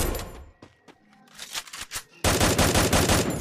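Rapid automatic gunfire in the battle royale game Garena Free Fire, a few scattered shots early, then a loud sustained burst of fire over the last second.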